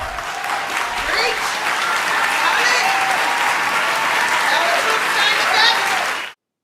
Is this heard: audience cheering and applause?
yes